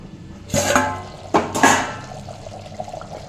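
Green cashews, peeled, tipped into a pot of chicken curry, giving two short splashy clattering bursts, close and fairly loud, then quiet simmering.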